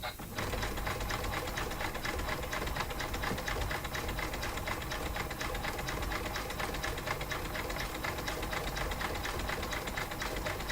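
An embroidery sewing machine stitches steadily and fast, a continuous even mechanical whirr with a rapid needle patter throughout, fairly quiet and heard on its own.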